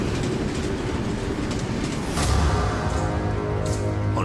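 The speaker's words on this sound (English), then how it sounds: "This feeds 4 powerful electric traction motors below, and these turn the locomotive's wheels." Diesel-electric locomotive with four electric traction motors hauling a train on an icy northern railroad, a heavy steady rumble of wheels on rails that grows louder midway, with clickety-clack beats.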